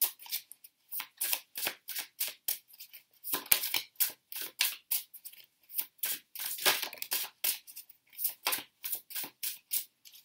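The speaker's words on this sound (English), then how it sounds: "They have a really distinct shuffling sound" Tarot cards shuffled over and over, a steady run of crisp riffling bursts with short pauses, close and fairly quiet, no voices.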